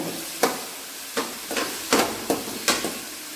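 Chopped tomatoes and green chillies frying in a pan for a conch curry, a steady soft sizzle broken by about six regular scraping strokes as the spoon stirs.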